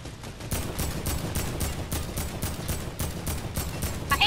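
Steady, evenly spaced gunshots in a video game pound out in a regular rhythm of about two per second, moderately loud and close, with a fainter background of continuous game noise.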